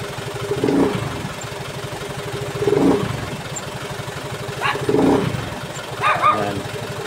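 Red Easyride 150fi motorcycle with an upgraded CVT, its engine running steadily up close with several short rev swells rising over the idle, one after another.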